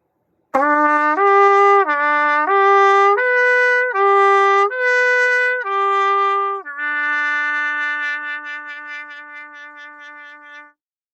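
Trumpet plays a series of smooth lip slurs from first-line E on first and second valves, stepping up and down between harmonics in short groups, then sustains a final held note that fades out.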